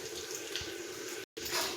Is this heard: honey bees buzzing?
no